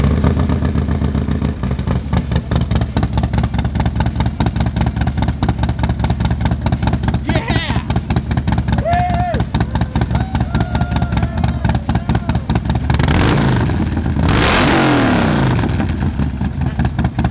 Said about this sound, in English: Nothing left to do but start it up.